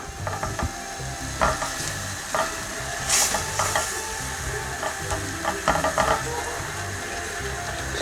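Garlic fries in oil in a pan while cooking white beans and sea bream, giving a steady close sizzle with scattered clinks and scraping stirs over it.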